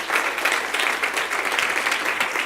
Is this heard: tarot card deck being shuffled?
no